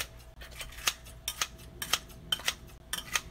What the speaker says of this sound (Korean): 김치를 이제 가위로 이렇게 잘라주면 되는데